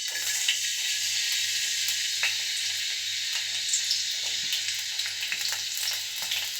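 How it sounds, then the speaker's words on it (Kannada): Garlic sizzling in two to three tablespoons of hot oil, a step in a Mangalore-style neer dosa pasta. A steady, close, even hiss with small crackles and light stirring taps runs throughout, with no talking. "ಇವಾಗ ಬೆಳ್ಳುಳ್ಳಿ ಹಾಕ್ತಾಯಿದ್ದೀನಿ"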